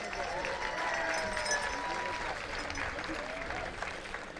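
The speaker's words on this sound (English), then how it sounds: "can I get a round of applause for that" Applause from a crowd at a Father's Day powwow grand entry, a sustained wash of clapping at moderate distance with a long whistling tone running through it.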